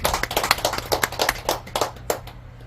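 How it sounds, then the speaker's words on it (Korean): A gathering at a Buddhist temple dharma service claps together in a brief burst of uneven, overlapping hand claps that gradually thin out and fade toward the end, over a low steady hum. "박수 한번 쳐주시죠."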